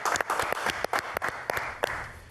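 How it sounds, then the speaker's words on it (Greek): A small group in a TV studio claps for Klearchos Marousakis, giving sharp, uneven, separate claps in a loose rhythm rather than a dense roar, close and fairly loud. "Χειροκρότημα. Στον κύριο Κλέαρχο."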